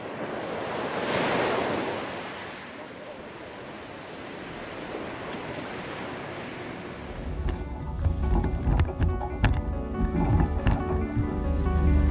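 Ocean surf washes onto a beach in Costa Rica near a seaside restaurant, a steady broad rush with wind noise that swells louder and rougher in the second half.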